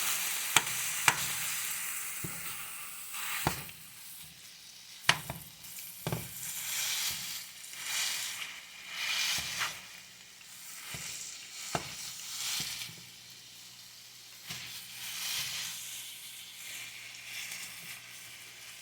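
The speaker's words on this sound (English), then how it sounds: "But I can fry sausage." Sausage fries in a pan with a continuous hiss and crackle of sizzling fat, broken by sharp clicks and scrapes of stirring close at hand.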